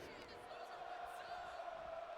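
A wrestling arena crowd sings an entrance song together, a steady sustained chant droning at a distance, with a voice talking faintly over it.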